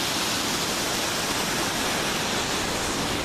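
Steady rushing water with a broad, unbroken roar, like a river flowing strongly nearby, with no voices.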